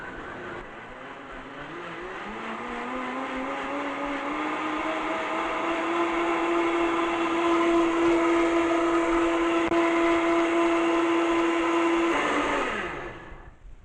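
A blender whirs through soaked dates for a lemon tahini dressing, its motor rising in pitch as it spins up, then holding a steady loud whine before winding down.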